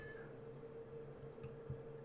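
A house cat meows faintly in the background under a steady low hum, a brief distant call barely above the room noise.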